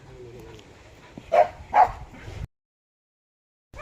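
Two short, sharp barks from a dog a little way off, over faint background voices, followed by near silence.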